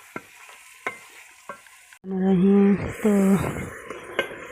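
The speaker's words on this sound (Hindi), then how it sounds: "अब इसे 5 मिनट तक फ्राई कर लें।" Village-style karahi gosht: meat sizzles loudly and is stirred with scraping in a karahi, starting abruptly after a couple of seconds of quiet taps, with a brief voice speaking.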